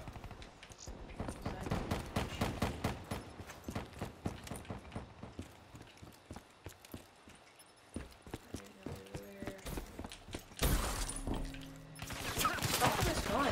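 A rapid-fire gun in a gun-game shooter rattles off quick bursts of shots, mixed with footstep-like clatter and busier crackling bursts near the end, with faint game sounds and voice in the background.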